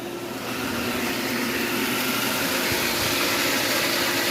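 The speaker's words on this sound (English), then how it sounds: "Pump sounds a lot better." A pool pump runs with a steady, loud mechanical hum and whir, holding a constant drone with no pauses or voices.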